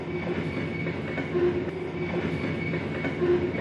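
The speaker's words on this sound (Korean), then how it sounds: "지하철 안에서 우리가 듣는" Steady loud rumble inside a moving subway car, with a constant roar, a faint high whine and soft rhythmic rail clatter running throughout, with no voices.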